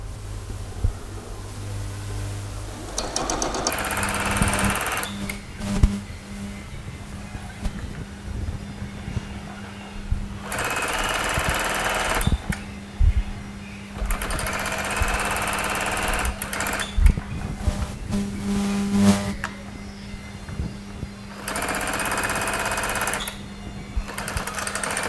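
Sewing machine stitching a seam on a pair of shorts, loud steady whirring runs in several long bursts separated by quieter pauses, with no talking.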